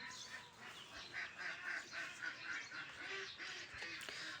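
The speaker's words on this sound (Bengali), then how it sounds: "আমার হাঁসের ভিডিও" A flock of domestic ducks quacks and honks in repeated, overlapping calls, faint and somewhat distant, with no talking.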